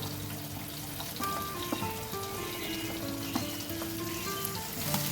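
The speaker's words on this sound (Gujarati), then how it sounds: "આ જે બધું શાક છે એને તેલમાં એક મિનિટ ચડાવી લઈએ" Raw banana pieces and green beans frying in oil in a pan, a steady soft sizzle with faint stirring clinks and tonal hum in the background, no talking.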